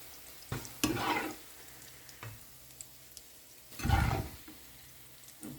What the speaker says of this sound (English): On the same pan, we sauté the garlic and onion.